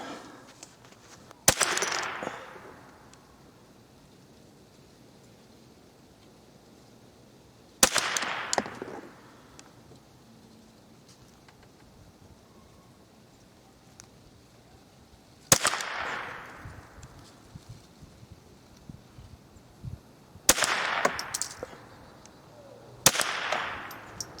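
.22 rifle shots from a Ruger 10/22, Marlin 60 and Remington 552 fired at a paper target: five sharp, loud single cracks spaced several seconds apart, each with a short decaying echo, over near-silence.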